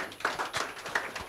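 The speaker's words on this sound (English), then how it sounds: "Make a clap for them." An audience claps on a broadcast call-in programme, a brief, light scatter of a few separate hand claps at moderate volume.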